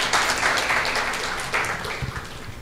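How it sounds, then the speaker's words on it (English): A conference audience applauding a speaker steadily, dense clapping at full strength from the start, easing slightly as it goes on. "have a big round of applause for the speaker"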